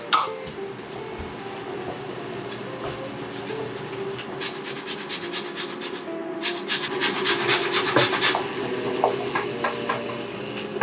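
Lemon and lime are zested on a grater in a kitchen, giving soft, quick rasping scrapes in short bursts. The scraping is close and fairly quiet, with no talk.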